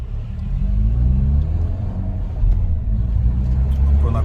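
Engine rumble and road noise heard from inside a Peugeot 308 GTi on a road test, a steady low drone that swells slightly as it accelerates, with no talking.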